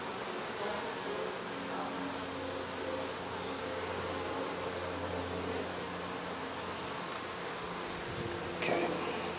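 Honeybees drone steadily in a dense, continuous buzz during a home hive inspection while adding a second brood box, loud and close with no talk.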